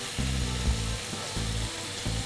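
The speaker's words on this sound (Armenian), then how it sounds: "Լավ, թող տապակվի, մեզ օգնականներ պետք չեն։" Food fries in a pan with a steady, close sizzling hiss, while a low humming drone pulses on and off beneath it.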